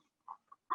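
Backyard chickens cluck near a feeding area in three short separate calls, fairly faint and close, with no talk over them.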